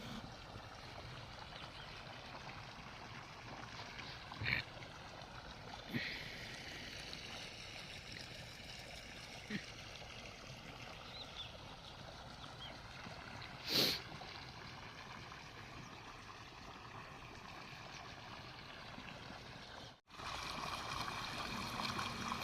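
Irrigation water flows steadily into a field and around young coconut trees on a farm, a continuous soft wash of running water with a few brief knocks and thumps and no talking.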